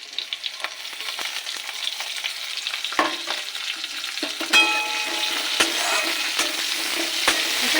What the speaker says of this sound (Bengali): এবার তেলে রসুন খেতো করা রসুন দিয়ে দেবো রসুনটাকে একটু ভেজে দিয়ে দেবো পেঁয়াজ কুচি লঙ্কা কুচি